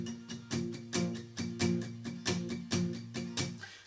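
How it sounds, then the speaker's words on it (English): Even palm-muted downstrokes on an acoustic guitar thump out a steady rhythm, about two strums per second, close and clear with no voices. "I'm going to be doing all downstrokes and kind of palm muting the strings."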